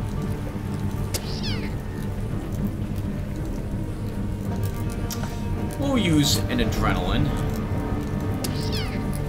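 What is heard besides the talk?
mutant cats meowing in Underrail video game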